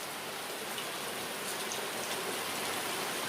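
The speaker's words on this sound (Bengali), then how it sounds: "প্রচন্ড বৃষ্টি ঢালছে" Heavy storm rain pours down steadily, heard from inside a shop: a dense, even hiss of water beating on surfaces that fills the whole stretch without a break.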